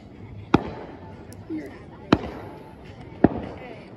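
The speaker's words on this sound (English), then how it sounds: "it is time to begin the fireworks show" Fireworks going off over a lake at a 4th of July celebration: three sharp, loud bursts spaced about a second and a half apart, each followed by a short rumbling tail, over a steady outdoor background.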